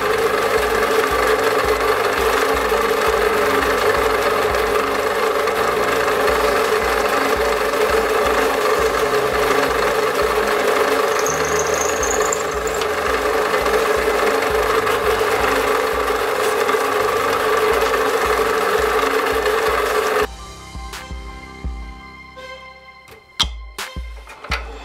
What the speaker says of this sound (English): What we want to do first of all is drill a small pilot hole through